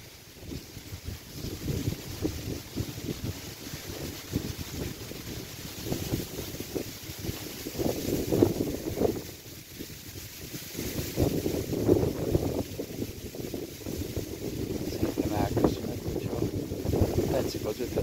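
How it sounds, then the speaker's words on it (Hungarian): Strong outdoor wind buffets a microphone at a fishing spot, a rumbling, gusting roar that rises and dips throughout, with someone talking over it at times. "Nagyon fúj a szél, lehet, hogy a sustorogni fog."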